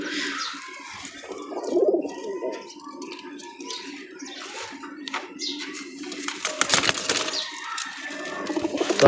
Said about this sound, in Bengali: এটা কিন্তু একটা পাঙ্খি ফেটে কবুতর।